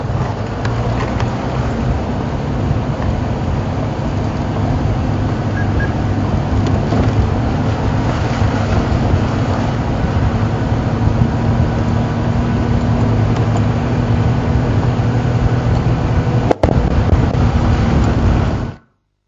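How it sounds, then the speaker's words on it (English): A safari vehicle engine runs steadily right beside the gearbox, a loud, constant low rumble mixed with wind buffeting that holds without a break and cuts off at the end. "So close to the gearbox and the engine."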